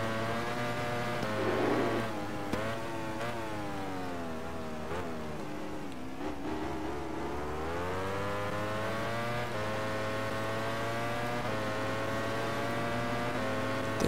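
A Ducati motorcycle engine races close by in the MotoGP 13 video game, a loud, continuous high whine that climbs and dips with each gear change and throttle shift, with no talking.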